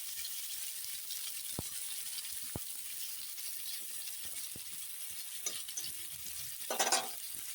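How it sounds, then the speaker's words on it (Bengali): Bitter gourd fries in oil with a faint, steady sizzle, broken by a few sharp utensil clicks and a short clatter near the end, and no speech. "এখানে উচ্ছে ভাজা হতে হতে দেখো"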